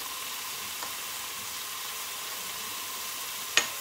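Peppers and onions sear in a Pampered Chef Quick Cooker in sear mode, giving a soft, steady hiss with one brief clink near the end and no talking.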